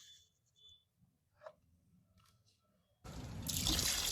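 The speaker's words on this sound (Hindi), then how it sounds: "हम पानी ऐड करते हैं अब।" Water pours into a pot of Rajasthani red mutton curry cooking over a clay stove, a sudden steady splashing rush after a few quiet seconds of faint clinks and drips.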